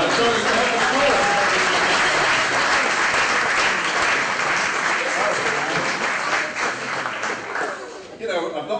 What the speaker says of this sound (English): I'd like you to give them a round, warm applause.